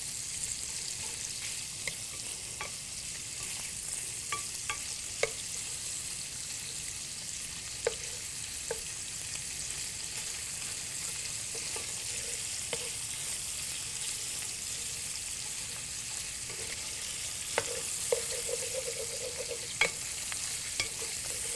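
Food sizzles steadily in a single pot used for a one-pot noodle meal while a spoon stirs it around, with occasional scrapes and light clinks against the pot over the continuous frying hiss.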